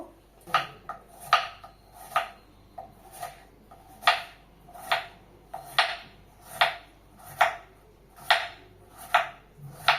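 A knife chops a peeled cucumber on a board in about a dozen crisp, evenly spaced strikes, each a sharp close knock with a short tail, steady and unhurried with nothing else heard.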